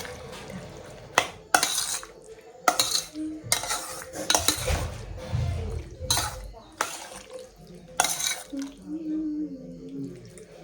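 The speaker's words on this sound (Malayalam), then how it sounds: "ഇനി ഇതൊക്കെ കൂടി നല്ല മിക്സ് ചെയ്യാം" Guacamole ingredients get mixed in a bowl with a spoon, giving repeated close clinks and wet scraping strokes in an irregular rhythm, with a voice talking at times.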